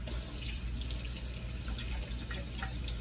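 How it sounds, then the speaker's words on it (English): Hot water pours steadily from a kitchen tap while bread dough is being prepared, a soft continuous rushing stream with no voices, fairly faint and even throughout. "I'm fixing to put some hot water in here after I mix this up."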